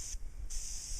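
Aerosol oil sprayed onto a car air filter in two short hissing bursts, close and fairly quiet, with no talk.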